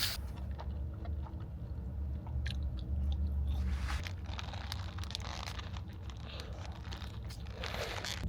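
Someone chews a mouthful of In-N-Out burger with close, moist, crunchy bites. The chewing runs steadily over a constant low background rumble, with no talking.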